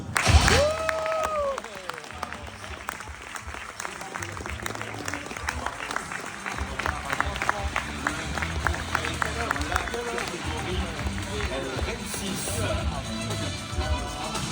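An audience applauds at a business awards ceremony as the "Elles réussissent" trophy goes to Romana Nature, steady sustained clapping across the hall with a presenter's voice and some crowd babble over it.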